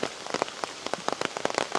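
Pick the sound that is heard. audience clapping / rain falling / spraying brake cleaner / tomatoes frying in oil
rain falling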